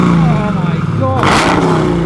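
A Jeep Grand Cherokee Trackhawk engine revs briefly with a rising, then falling, mid-pitched roar, close and loud, with people talking over and around it.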